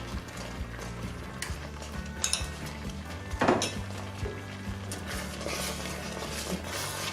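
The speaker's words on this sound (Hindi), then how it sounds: "और अब हम इसको भून लेते हैं।" Multani sohan halwa roasts with ghee in a pan as a spoon clinks and scrapes against the metal, giving scattered taps and one louder scrape over a low background hum.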